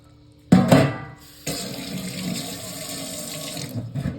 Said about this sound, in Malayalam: അതിലേക്ക് നമുക്ക് ആവശ്യത്തിന് വെള്ളവും കൂടെ ഒഴിച്ചു കൊടുക്കാം